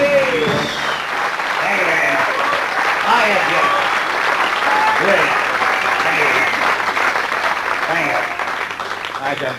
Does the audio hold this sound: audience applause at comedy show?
yes